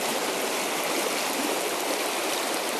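Steady, loud rushing of stream water pouring over a spill-in on the rugged upper Westfield River, a dense continuous wash of flowing water heard up close with no voices.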